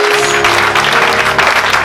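Church congregation clapping during a Swahili Sunday worship service, a dense, steady wash of many hands close and loud throughout, with no clear break and no talk over it.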